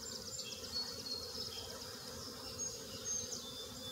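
Honey bees, many of them freshly hatched nurse bees, drone steadily at an open beehive during a busy morning with basswood in bloom, a continuous close buzzing hum with no talking.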